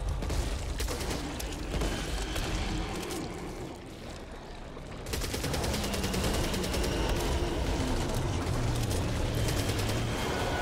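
Sniper rifle gunfire in the zombie shooter Back 4 Blood during co-op play, loud shots over dense game noise with a brief dip before the action resumes.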